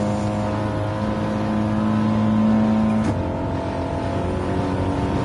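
Audi TT Cup Gr.4 race car engine in Gran Turismo 7 at Lago Maggiore, a steady loud drone that holds pitch, then briefly shifts while closing on another car, with no talking.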